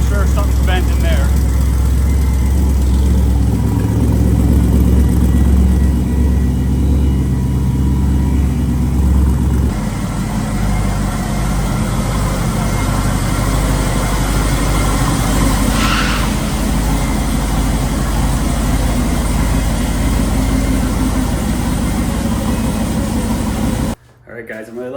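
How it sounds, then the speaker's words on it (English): A crashed race car's engine idles steadily with an exhaust leak, a low rumbling drone with a faint hiss that stays constant and then cuts off abruptly near the end; no speech is heard over it. "Exhaust leak over here."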